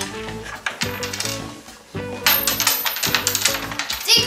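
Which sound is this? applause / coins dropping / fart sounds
coins dropping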